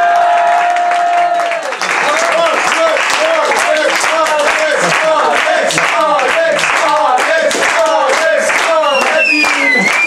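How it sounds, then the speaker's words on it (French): Comedy club crowd applauding loudly and continuously after a stand-up set, dense clapping with some cheering, over the tail of a voice at the start. "On va applaudir."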